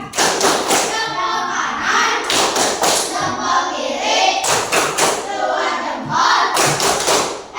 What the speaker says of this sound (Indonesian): Berikan tepuk hebat untuk Ali.